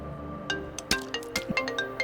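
An electronic phone ringtone plays in quick chiming notes, moderately loud and steady, with no talking.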